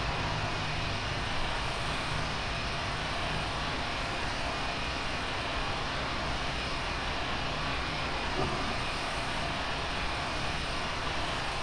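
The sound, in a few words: Boeing 737-800 aircraft engine in the video game Flight Simulator X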